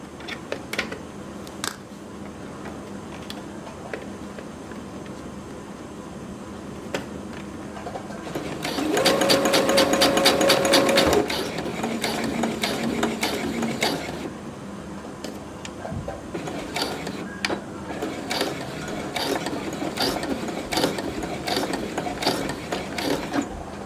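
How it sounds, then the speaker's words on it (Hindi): Sewing machine stitching a handle onto a foldable fabric grocery bag, a quiet mechanical whir that swells into a louder, rapid run of stitching for a couple of seconds, then softer clicking and handling noises. "तो यहाँ पर मैं अब टॉप से सिलाई ला रही हूँ"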